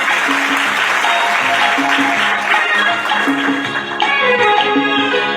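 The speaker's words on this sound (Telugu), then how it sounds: "ఒక్కసారి చప్పట్లు కొట్టండి ఆ వాక్యానికి" An audience claps together in sustained, dense applause, loud and close, with faint music tones running underneath.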